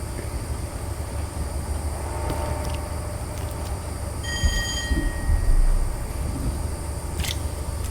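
An Intercity 125 train runs in the Train Simulator game, with a steady low rumble and rolling rail noise, a brief tonal whine midway, and the engine swelling slightly louder before settling, with no talk.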